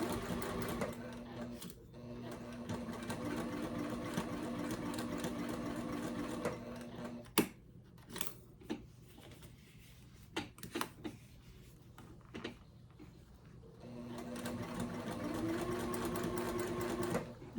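A sewing machine runs in fast bursts while stitching a Lola bag with strap connectors, whirring steadily for several seconds, pausing with a few clicks and thumps, then racing again close by.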